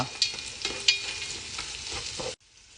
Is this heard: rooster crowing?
no